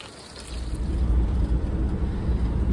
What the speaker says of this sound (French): Oh oui, la bonne grêle!